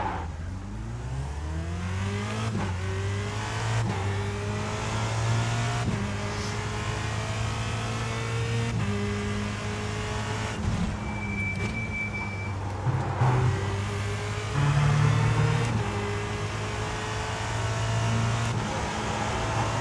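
Formula Renault 2.0 race car engine in iRacing revving and shifting through gears, a loud continuous drone with repeated rising sweeps and gear-change drops, alone with no talk.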